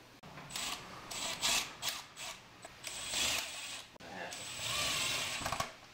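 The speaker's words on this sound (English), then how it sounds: "Tighten that down, 7mm" A hand ratchet tightens a 7mm bolt on a C8 Corvette Z06 rear bumper, giving close, uneven bursts of ratcheting clicks with short pauses between strokes and no voices.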